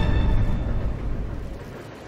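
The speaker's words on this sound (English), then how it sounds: "The train will either derail or crash." A runaway train rumbles along the rails in a steady, loud, low roar with dense rattling that eases slightly over two seconds, with no talking.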